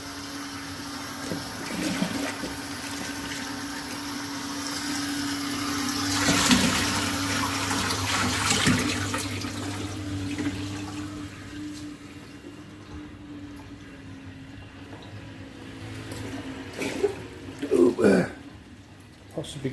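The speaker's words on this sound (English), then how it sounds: "throw some more water in there." Water sloshes and pours into a D-D Reef Pro 900 aquarium skimmer, a rushing splash that swells in the middle over a low pump hum, with brief gurgles near the end.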